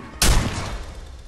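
One sharp, loud gunshot in Friday the 13th: The Game, a close, heavy blast with a short rumbling tail, no talk over it.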